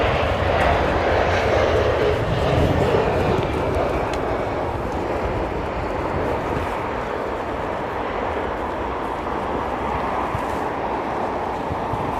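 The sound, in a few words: airliner, maybe 777 or A330, landing at Heathrow in wind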